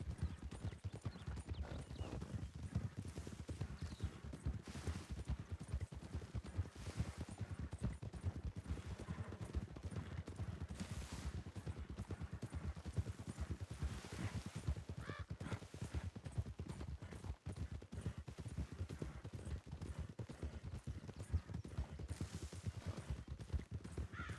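Horse hooves galloping in a video game, with steady rapid clip-clop hoofbeats continuing throughout over an ambient game soundscape, with an occasional faint whinny.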